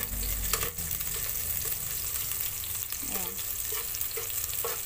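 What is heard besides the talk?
stirring frying chicken gizzards adobo in pan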